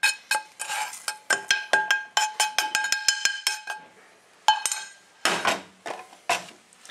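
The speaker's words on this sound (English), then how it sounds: "We're going in with a pestle and mortar, and with this it's not an up-down motion, it's a round motion" A series of sharp ringing clinks and taps, a pestle striking a mortar while grinding dry-fried spices for curry paste, uneven rhythm, close and fairly loud, with brief pauses.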